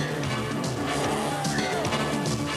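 A rally car spins rodeo-style at a 1986 rally event in Nîmes, its engine roaring continuously while the tyres skid and scrub across the surface, loud and close with a crowd-like wash behind.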